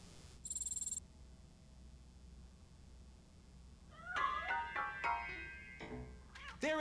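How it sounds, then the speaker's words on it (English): Cat meowing in a video game, a string of several rising, high mews in the second half after a short electronic tone, moderately loud and clear. "That cat must be hiding inside."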